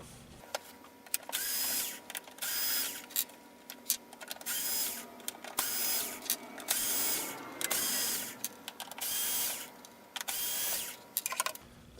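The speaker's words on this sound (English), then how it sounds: "it's located right here behind the H screws that you must undo" A power screwdriver undoes screws on an ionizer unit with a turbine, sounding as repeated whirring bursts of a few seconds each, separated by clicks and handling noises, up close with no speech.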